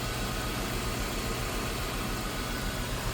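A 3.9 liter V8 in a 2002 Ford Thunderbird convertible idles steadily with the hood open, a close, even low rumble with a continuous mechanical hum and no talk over it.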